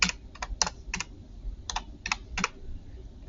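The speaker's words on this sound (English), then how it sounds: "The hardest part to this is typing this in correctly" Keys on a graphing calculator are pressed one at a time as numbers are entered: about a dozen crisp, close clicks in uneven bursts over a quiet background.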